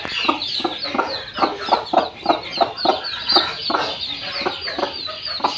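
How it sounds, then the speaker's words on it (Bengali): A spirited village hen clucks steadily in quick, rhythmic bursts, close and fairly loud, over a soft farmyard background. "দেখুন কি তেজি এই মুরগিটা।"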